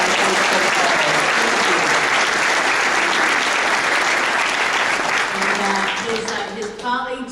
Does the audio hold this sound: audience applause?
yes